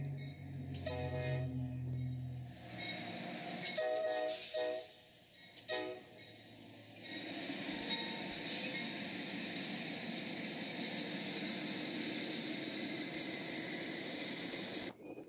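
A CSX freight train with a PRLX unit passes, its horn sounding in short blasts early on before a steady broad rumble of rolling cars takes over and continues to the end.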